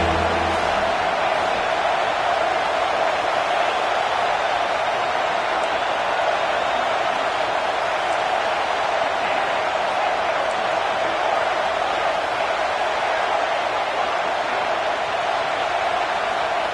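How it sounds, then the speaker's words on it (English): Stadium crowd at an Ohio State Buckeyes college football game in an NCAA video game, a steady loud roar of cheering on third down that holds evenly throughout. "The Buckeye crowd alive on 3rd down."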